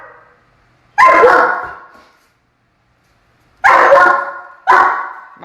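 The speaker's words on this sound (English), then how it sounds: "Don't bark at the cat." A dog barks at a cat in three sharp, loud bursts close by: one bark, a long pause, then two barks in quick succession, with silence between them.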